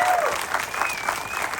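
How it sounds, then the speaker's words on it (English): Audience applause after a Terminator 2 Q&A session with Chris Warren, a dense steady wash of clapping from a crowd, loud and continuous throughout with faint whistle-like tones over it. "let's give Chris some applause"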